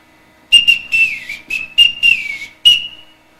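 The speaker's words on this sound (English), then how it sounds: "They have been taught to come when they hear their signals. Now, when I want you, this is what you'll hear." A sequence of short and longer whistle blasts in a distinct rhythmic pattern, loud and close, given as the captain's call signals to the children in a high school staging of The Sound of Music.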